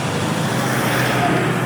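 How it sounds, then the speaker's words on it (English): Cars pass through a busy intersection in Costa Rica, a continuous close roadway rumble and hiss of traffic with no breaks, steady and fairly loud. "we're just gonna show the clips because cars just keep going by"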